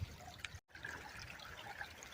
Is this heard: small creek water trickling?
yes